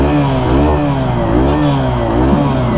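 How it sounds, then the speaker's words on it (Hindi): Hero Super Splendor XTEC OBD 2 motorcycle engine running close by: a loud, steady low idle hum with a slight rise and fall in pitch as the throttle is blipped gently. "चलिए हम इसके इंजन के साउंड को सुनते हैं"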